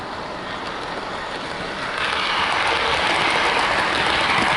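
A steady rumbling roll of a Hornby model train, a Class 87 with Virgin Mark III coaches and DVT, running along layout track, continuous and close, growing slightly louder partway through.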